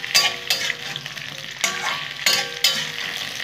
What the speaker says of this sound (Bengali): তাহলে কফিগুলো ভেজে নিচ্ছি।